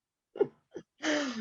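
A single sneeze from a woman among a group of female friends, two short breathy intakes followed by a loud, sustained explosive burst, close and clear with no talk over it.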